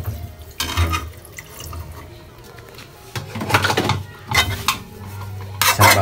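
A glass of water splashes into a cooking pan for pork adobo braised in Sprite, heard as several short bursts of pouring and clinking between quieter stretches.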